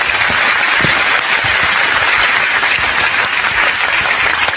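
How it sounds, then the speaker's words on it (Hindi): Audience applause at a comedy show with a kid performer, loud dense clapping filling the whole stretch without a break, no voices over it. "तालियां।"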